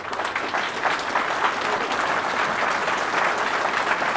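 An audience applauds steadily, the dense clapping filling the whole stretch at an even level.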